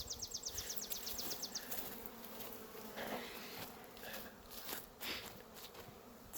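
Steady buzzing drone of many honey bees flying around a beekeeper's apiary of about 254 hive colonies, a dense close swarm hum with individual bees passing near, no voices.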